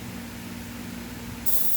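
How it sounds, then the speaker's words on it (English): An airbrush fed from a bottom-loader bottle sprays paint in a sputtering, weak burst, entering sharply near the end as a bright, close hiss over a low background hum. "Trying to get this airbrush and it's not really doing that great of a job"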